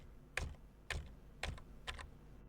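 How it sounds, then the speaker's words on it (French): A computer keyboard is typed on while an adb sideload command is entered to install a custom ROM on a Samsung Galaxy A52s 5G, giving four distinct, close, crisp keystrokes spaced evenly in a quiet room. "en utilisant la touche tabulation de votre clavier"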